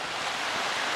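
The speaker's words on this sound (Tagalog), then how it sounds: "medyo windy ngayon, no? Mahangin kasi nga may bagyo nga." Strong wind rushes across a coastal road project in Leon Garcia, Agdao, Davao City as a typhoon approaches, a steady loud roar buffeting the microphone for the whole moment.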